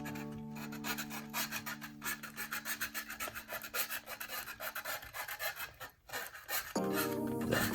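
Sandpaper rasps back and forth over the plastic surface of an Estes Soyuz model kit part, roughening it ahead of epoxy, in steady close rhythmic strokes with a brief pause near the end.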